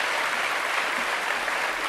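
Dense, steady clapping from a TV studio audience fills the whole moment, a broad hiss of many hands with no break or swell.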